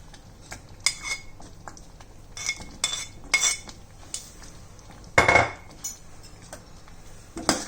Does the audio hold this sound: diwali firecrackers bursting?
no